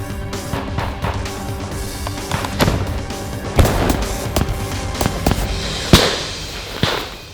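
A series of sharp, loud gunshots ring out at irregular intervals during a military defensive drill, some closer and heavier than others, with a noisy, rumbling background between blasts.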